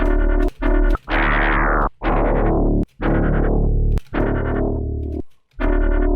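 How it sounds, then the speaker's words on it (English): Deep fog-horn-style synth bass from Serum 2, with FM from the sub adding a gritty growl, played in short chopped phrases with brief gaps, loud and distorted with bright buzzing harmonics. "it just starts to growl up the sort of harmonics of the sub bass a bit"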